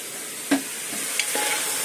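Oil and rice sizzle in a pressure cooker pot while Hyderabadi biryani cooks, a steady close hiss broken by a few brief stirring knocks, with no talking.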